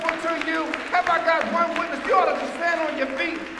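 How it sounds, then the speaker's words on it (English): Church congregation on its feet clapping and shouting in celebration, a dense, lively wash of hands and voices that holds steady throughout. "You ought to stand on your feet and give God a big clap"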